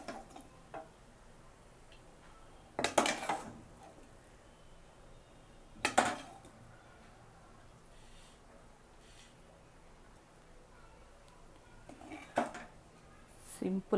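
Pepper chicken dry being served onto a plate: a few sharp clinks of a spoon against the plate, spaced several seconds apart, over a quiet room.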